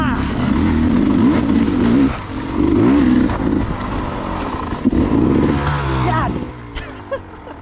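Dirt bike motorcycle racing through a rock garden, engine revving in repeated surges with clattering over rocks, close and loud, with a rider talking over it.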